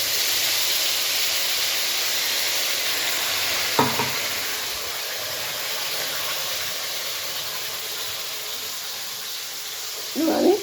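Spice masala with sliced tomato sizzles faintly in a pan as it is stirred, a soft continuous hiss broken by a scrape near the start and another brief clatter toward the end, with no one speaking.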